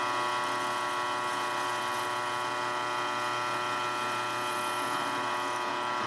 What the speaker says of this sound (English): I'm using a drill press to drill this hole, and I don't have a jig or anything.